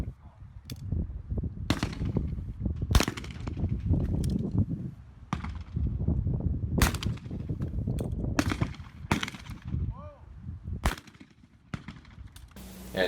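Shotgun blasts at a trap shooting range ring out as a string of sharp, separate reports spread irregularly over several seconds, some near and loud, others fainter, against outdoor background noise.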